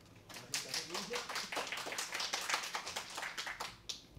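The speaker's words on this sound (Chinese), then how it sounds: "好，掌声鼓励一下。" Audience applause in a lecture hall at a Linux system software talk, a dense run of many hands clapping for about four seconds, fairly close and steady, then fading out at the end.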